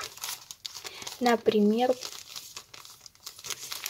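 A paper surprise packet is crinkled and handled up close. Brief rustling bursts come before and after a short spoken word.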